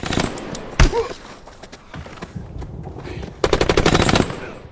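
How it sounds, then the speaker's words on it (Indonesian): Bursts of rapid film gunfire crackle in quick volleys with scattered single shots and thuds, loudest near the end. "Charlie dan teman-temannya harus mengarahkan tembakan ke arah Martin"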